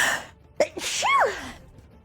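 A single sharp sneeze bursts out at a tabletop role-playing game session, close and fairly loud, preceded by a brief breathy intake and trailing off quickly.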